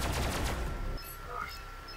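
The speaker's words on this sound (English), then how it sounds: "Shooting the targets like crazy." A quick burst of rapid gunfire in a video game as targets are shot, loud for about a second before it cuts to a quieter background.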